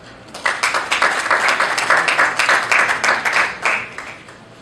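An audience claps in welcome for a speaker at a panel on the judiciary and justice system. The applause is dense and steady, rises quickly, holds for about four seconds, then fades, with no voices over it.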